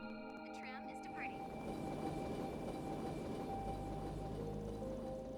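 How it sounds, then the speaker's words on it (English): Orbital tram from the game Trails Through Daybreak rumbles past as a steady rail drone with a low swell, while tonal game music and chime-like tones ring over it throughout; no talking. "Damn ghost-ass tram."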